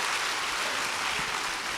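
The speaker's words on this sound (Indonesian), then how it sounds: "beri tepuk tangan yang meriah buat Tuhan" A church congregation gives a dense, steady burst of clapping in praise of God during a service, a continuous wash of applause with no voices over it.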